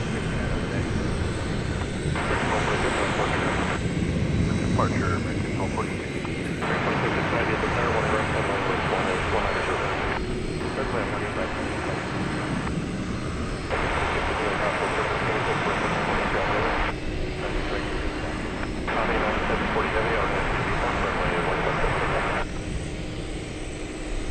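A heavy jet airliner roars steadily on takeoff from runway 18 left at DFW Airport at night, a continuous loud engine rumble with air traffic radio talk breaking in over it in segments.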